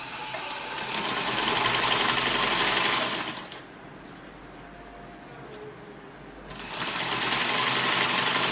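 A sewing machine stitches fabric in two loud, steady runs of fast motor-driven needle whirring, separated by a quieter pause of a few seconds, close and alone without talk.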